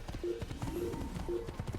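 Horse hooves in the Assassin's Creed video game clop in a quick, steady trotting rhythm at moderate volume over a soft tonal background.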